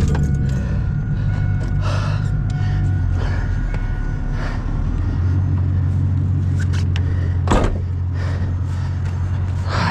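A Chevy Camaro idling in neutral in a ditch during a winch-out, a steady low engine rumble running throughout with a brief clank near the end.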